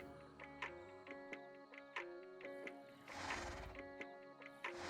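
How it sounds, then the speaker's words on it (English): A horse summoned in Minecraft, Java Edition 1.21, whinnies and snorts over repeated clip-clop hoofbeats and small ticking sounds, faint overall with a short breathy burst midway. "Now let's go ahead and summon a horse."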